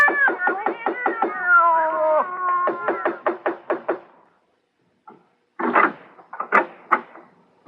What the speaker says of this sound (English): That's the darndest cat fight.